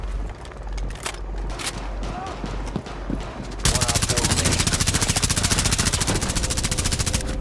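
A light machine gun in Rainbow Six Siege opens up in a sustained rapid burst after scattered earlier shots, loud and close.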